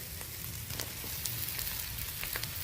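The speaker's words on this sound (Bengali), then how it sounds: "এবার শাকটা তুলে দেবো।" Red amaranth greens sizzle and crackle steadily in a hot frying pan with vegetables, salt and turmeric, a continuous close hiss with scattered sharp pops and no voices.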